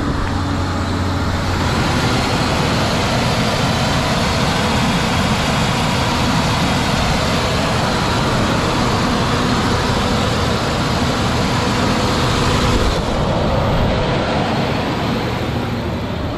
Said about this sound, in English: Engine sounds strong.